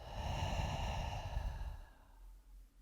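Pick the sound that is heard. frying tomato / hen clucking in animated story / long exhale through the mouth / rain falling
long exhale through the mouth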